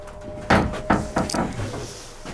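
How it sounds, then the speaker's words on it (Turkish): A door banging shut in a house, one sharp thump followed by a couple of quieter rattling knocks, then stillness. "Şu kapı çarptı galiba."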